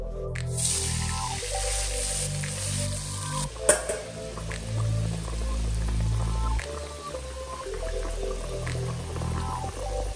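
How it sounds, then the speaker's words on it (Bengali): Katla fish curry simmering in a pan with onion, chilli and spices, a steady bubbling sizzle with an occasional stir, over a low tonal hum in the room. "পেঁয়াজ লঙ্কা কুচিয়ে নিয়েছি, নিয়ে সমস্ত মশলা দিয়ে ভালো করে কষিয়ে জল দিয়ে মাছ দিয়ে ফোটাচ্ছি"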